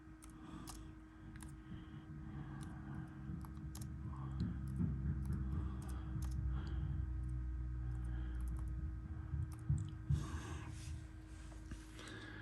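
Typing on a computer keyboard, a steady run of light clicks and taps at close range with a faint hum underneath and no talking.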